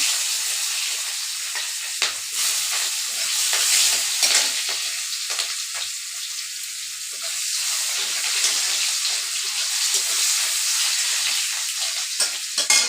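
Sliced onion and nigella seeds fry in oil in a kadai, making a loud, bright, hissing sizzle that swells and dips steadily with occasional stirring scrapes.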